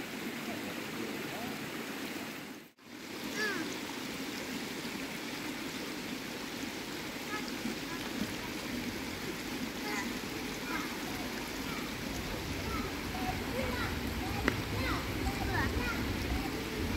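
Children play and splash in seawater at a beach, a steady wash of water and surf carrying throughout, with a brief dropout early on; people talk nearby under the water sound.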